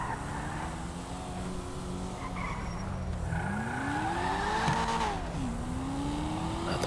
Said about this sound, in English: The popping of the exhaust